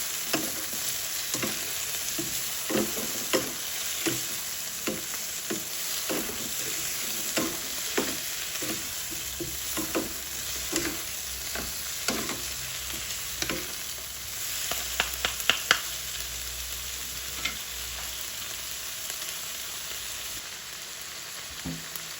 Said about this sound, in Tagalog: Then we'll put fresh shrimp.